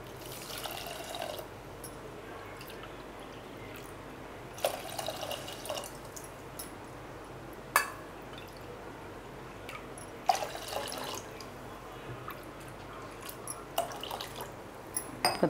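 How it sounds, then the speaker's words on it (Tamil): Four cups of water are poured one at a time into a pot of foxtail millet for payasam, heard as a few separate splashing pours and drips over a quiet kitchen background. "இந்த கப்பாலே நான் 4 கப் தண்ணி சேர்த்துக்கிறேன்."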